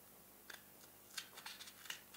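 Scissors cut lace shapes from an egg carton in a few faint, crisp snips spaced irregularly across a quiet background.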